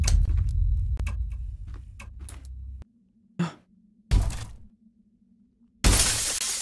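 Glass shattering in a Halloween video game: a loud crash with scattering shards, then quiet hum broken by two short clatters and a final loud burst of breaking glass.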